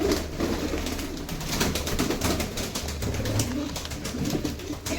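Pigeons coo steadily at a pigeon loft, several birds overlapping in a low, continuous murmur with occasional wing flutters, close by and fairly loud throughout.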